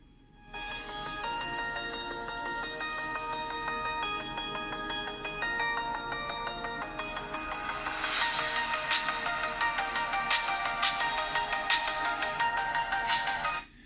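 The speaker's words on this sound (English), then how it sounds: "let's go ahead and listen to a song real quick with the speakers" A song plays through the speakers of an LG G7 ThinQ phone, bright tinny melodic tones running steadily, growing fuller and busier in the second half before cutting off abruptly.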